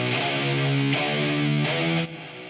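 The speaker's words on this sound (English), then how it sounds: "That's the room reverb." Distorted electric lead guitar chords from a mixing session ring out with a roomy reverb tail, changing roughly every second before cutting off.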